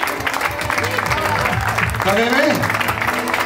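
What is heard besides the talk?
audience applause for hip-hop documentary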